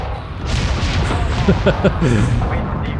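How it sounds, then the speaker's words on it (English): Missile explosions in Homeworld 3, heavy booming blasts rolling together over about two seconds with a rumbling low tail, loud and continuous under game sounds. "Enemy missile vectoring on our defenses."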